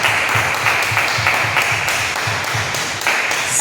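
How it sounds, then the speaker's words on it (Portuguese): A church congregation claps together in a strong round of applause, dense rhythmic clapping that stays loud and steady for a few seconds. "Agora eu te convido a dar a mais forte salva de palmas ao Senhor Jesus."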